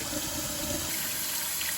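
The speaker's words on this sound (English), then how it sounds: "I put this in the sink and I let running water in it until it overflows multiple times" Running tap water pours steadily into a crock pot set in a sink, filling it until it overflows, giving a close, constant rushing splash with no talk.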